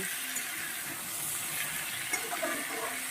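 Water poured into a cooking pan, a steady rushing gush with some bubbling sizzle toward the end, close and continuous.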